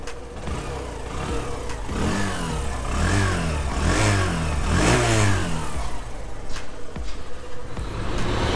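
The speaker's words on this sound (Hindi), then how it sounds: "गाड़ी का एग्जॉस्ट नोट सुनते हैं" A 2022 Hero Passion Xtec motorcycle engine revs up several times in quick bursts through its exhaust, rising and falling in pitch, then settles back toward a low idle, close and loud.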